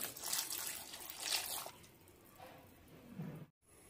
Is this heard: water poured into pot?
yes